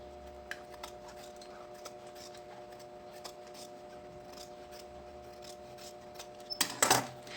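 Scissors trimming excess lining fabric from a handmade backpack, giving a quick cluster of sharp close snips near the end after a quiet stretch of faint ticks and a steady low hum.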